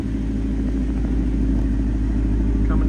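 A Ford Mustang Mach 1 coupe with a 480 hp 5.0L V8 and six-speed manual idles close by, its big 4.5-inch exhaust tips giving off a steady, deep, loud rumble with no voices.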